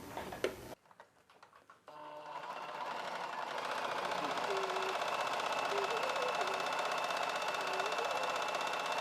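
Sewing machine stitching the edge of a lining piece and blouse piece together, starting after a few clicks and then running steadily and loudly to the end.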